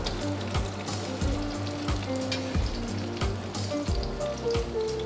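Celery, onion and carrot for celery soup sizzle steadily in a hot pan, a close, continuous crackling hiss with small pops and occasional stirring scrapes throughout.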